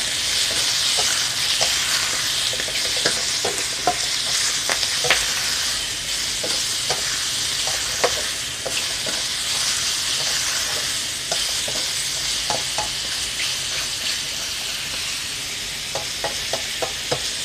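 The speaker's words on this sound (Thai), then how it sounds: "ผัดใส่กระเทียมใส่น้ำมันก่อนนะคะ" Garlic stir-fried in oil in a pan for mixed vegetables with straw mushrooms, giving a steady close sizzle broken by frequent clicks and scrapes of a spatula stirring, with no talking.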